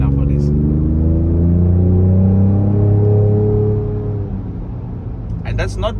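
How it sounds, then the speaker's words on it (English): A Ford Raptor with a 3.0T V6 engine and exhaust revs up loud and close, a deep rising rumble that holds and then settles back toward idle, with brief talk at the start and end. "That's not played through some speakers. That's not, you know, that is solely the exhaust and the engine working together."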